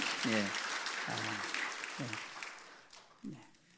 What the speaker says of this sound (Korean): 우리 한번 힘차게 박수하겠습니다